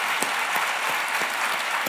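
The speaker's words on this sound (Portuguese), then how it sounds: "Palmas, galera." An audience claps steadily in a podcast studio, a dense, even wash of applause with a few sharper individual claps standing out, sustained throughout with no talking.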